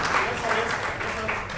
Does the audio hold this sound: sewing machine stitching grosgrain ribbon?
no